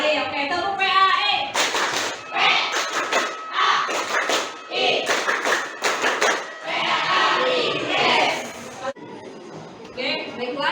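A classroom of students performs a rhythmic clap chant for their Islamic religious education lesson. Bursts of sharp group claps are interleaved with loud chanted voices in a quick, patterned sequence.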